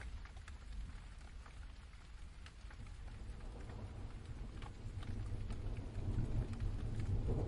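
Rain patters on surfaces with scattered distinct drops over a low rumble, building slightly louder toward the end, with no one speaking.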